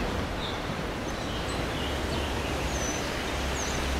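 A babbling artificial stream runs as a constant close wash while captive birds chirp faintly in a few brief, scattered calls above it, in a Hong Kong setting, with no talking.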